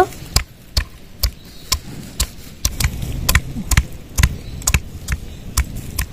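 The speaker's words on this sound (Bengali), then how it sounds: "রসুনগুলো এবার থেতো করে নেব।" Steady, rhythmic pounding of garlic cloves being crushed, about a dozen sharp thuds spaced evenly, close and fairly loud.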